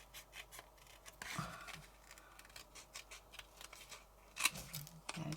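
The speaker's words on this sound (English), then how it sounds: "So I'm just going to cut around all the way, like so." Scissors snipping around a paper craft piece: quiet, irregular crisp cuts and rustles of paper, with a few sharper snips standing out, close by and with no talk.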